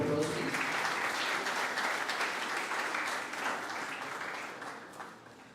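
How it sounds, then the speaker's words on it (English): Audience applause follows a bouquet presentation to a Qualcomm senior director at a technical event on wireless communication, a steady dense round of clapping that holds throughout and tapers slightly toward the end. "Can we have a round of applause, please?"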